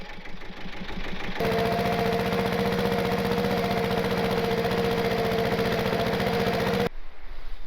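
A 1948 Willys CJ-2A jeep fitted with a V-8 engine idles close by, a loud, even rumble with a steady pulsing throb that starts and stops abruptly.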